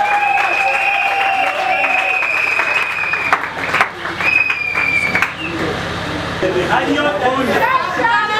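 Congregation applauding during a wedding blessing ceremony, steady clapping with cheering voices and a sung or called tone over it, loud and sustained throughout.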